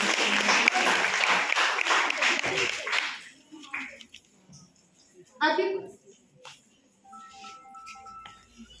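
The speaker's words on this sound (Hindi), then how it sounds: "तालियों की गड़गड़ाहट कम सुनाई दे रही है।" An audience at a national seminar at Navyug College applauds with brisk clapping for about three seconds. It then breaks off into quieter room sounds with brief voices and clinks.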